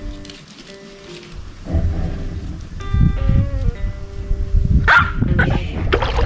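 A dog barks in short bursts amid outdoor background noise, with a sharper yip near the middle; the barking is fairly close and intermittent.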